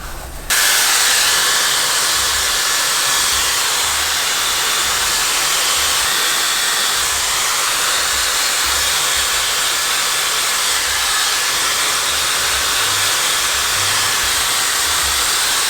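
A Dyson Airstrait hair styler switches on and blows a loud, constant stream of air, a steady broadband hiss that continues unbroken and close for the whole stretch with no talking.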